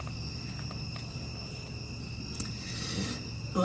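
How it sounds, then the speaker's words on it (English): Crickets and tree frogs sing at night in a continuous, faint, high chirring chorus, with no voices. "The crickets and the tree frogs singing."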